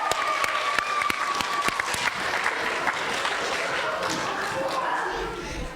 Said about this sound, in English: Give yourself a round of applause on that one